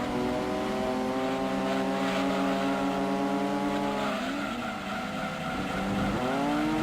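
A Datsun race car in Gran Turismo 2 drones at a sustained high engine pitch, then dips and climbs again through shifts with a hint of tire squeal, close and continuous.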